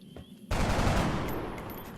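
A soldier's gunshot in XCOM Long War, a single loud sharp blast after a quiet moment, followed by a sustained rumbling burst and decaying echo.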